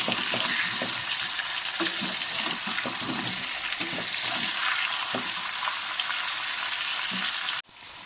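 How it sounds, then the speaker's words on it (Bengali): Potatoes fry in a pan with turmeric and salt, a dense, steady sizzle with occasional stirring scrapes, close and continuous, cutting off abruptly near the end. "তো দেখো আমার আলুটা কিন্তু লাল লাল করে কি সুন্দর করে আমি ভেজে নিয়েছি"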